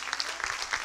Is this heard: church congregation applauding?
yes